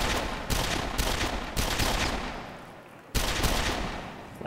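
Rapid bursts of first-person shooter gunfire from a PlayStation 3 Move motion-controller game, several sharp volleys with short gaps between them.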